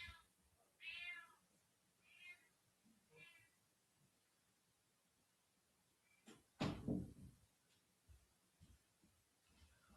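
An indoor cat meows several times at a low level, followed by a sharp door-like knock and then quiet.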